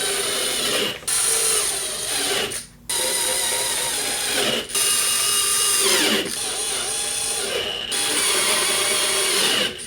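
A ratchet tightens bolts into rib nuts in the engine bay of a Nissan GTR during a dress-up kit install, with loud, steady clicking runs broken by several short pauses.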